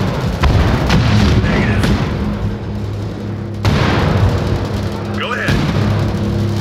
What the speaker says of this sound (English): Exchanging fire with enemy infantry